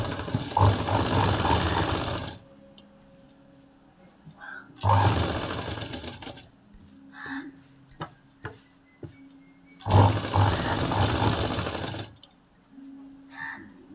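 Sewing machine stitching fabric during tailoring, three loud bursts of whirring machine running separated by quieter pauses filled with handling noises and soft clicks.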